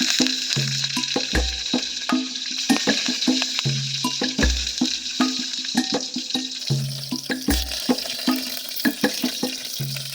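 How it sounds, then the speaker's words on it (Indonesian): Tofu frying in boiling oil inside a cooking pot at a forest campsite, a steady crackling sizzle with bursts of spitting and clinking of a utensil against the pot throughout. "setelah tahunya sudah diiris dan di sini minyaknya sudah mendidih, kita langsung mau goreng tahunya."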